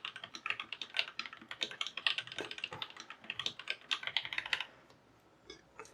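Fast, steady typing on an Idobao ID80 mechanical keyboard with a polycarbonate case and brass plate, crisp close clacks in quick bursts that trail off near the end.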